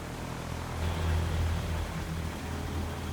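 Cessna 172 propeller engine droning in flight over London in X-Plane 11, a steady low hum with broadband wind noise, swelling slightly midway, alone without speech.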